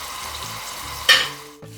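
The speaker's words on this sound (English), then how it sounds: "So we have to cook the onion at least 6-7 minutes until little bit cooked." Onion sizzling steadily in a pan as it fries, with a brief louder scrape of stirring partway through and a short pause before the sizzle resumes.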